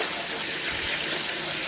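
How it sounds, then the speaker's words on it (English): Cold tap water running over cucumbers being rinsed for refrigerator pickles, a steady close hiss of flowing water with no pauses. "So I'm going to rinse these now with some really cold water."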